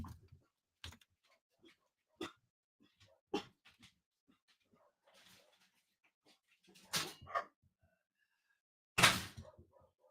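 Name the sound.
dogs barking at an arriving car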